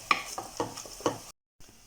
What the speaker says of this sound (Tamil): வெங்காயத்தை நல்லா கோல்டன் ப்ரௌன் ஆகிற வரைக்கும் வதக்கிக்கலாம்.